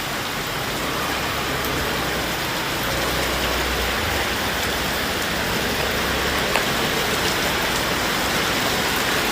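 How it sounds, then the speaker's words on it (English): Heavy rain with hail pours down during a storm with force 10 winds in China: a dense, unbroken roar of falling water that stays loud and even throughout, with no voices. "storm cells embedded within the system produced short bursts of heavy rainfall and scattered hail"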